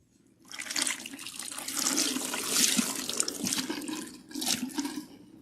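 Tap water runs steadily over hair being rinsed during a protein treatment, a close, full splashing stream that swells and eases for several seconds with no talking.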